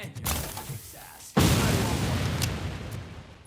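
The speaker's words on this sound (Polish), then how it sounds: "granat wybucha, ty po nim przeszedłeś" A grenade bursts in the video game RoboCop: Rogue City with one sudden loud boom and a sustained rumbling tail, following a stretch of busier game noise.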